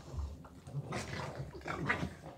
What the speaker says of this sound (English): And my dogs are fighting right now.